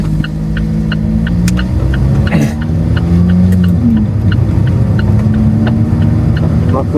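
An Alfa Romeo 4C sports car cruising, its engine holding a steady loud drone with a shifting pitch as it pulls along, plus regular faint ticking and a brief whoosh of passing traffic, and someone speaking over it.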